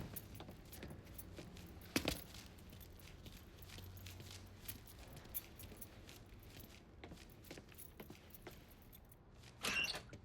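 Truck keys jangle in the video game Mafia III, a few quiet metallic jingles and clinks scattered over a low background hum, with a sharper burst near the start and another toward the end.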